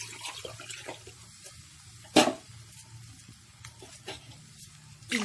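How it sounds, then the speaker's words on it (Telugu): Water from a glass is poured into a pan for semolina upma, with soft trickling and a few sharp splashes, the loudest near the middle, over quiet kitchen background. "రెండు గ్లాసులు నీళ్లు పోసాను"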